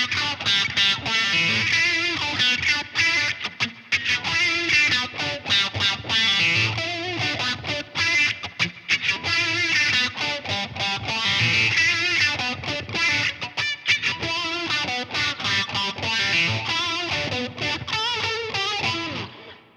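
Loud, heavily overdriven electric guitar, a Fender Stratocaster through a wah pedal, plays a continuous lead line with sweeping, vowel-like tonal shifts, sustained and dense throughout with no voices.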